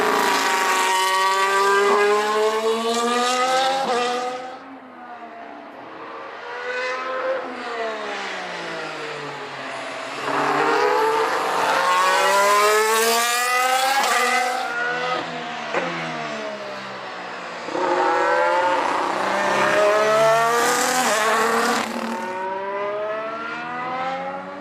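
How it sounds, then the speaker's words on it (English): Formula 1 race cars in a Lego animation, high-pitched engines screaming and rising in pitch through gear changes, several passes sweeping loud and then dipping, with no voice over them. "Lewis Hamilton going wheel to wheel with Sergio Perez, and to the roar of the crowd, emerging out triumphant by the time they get into turn 1"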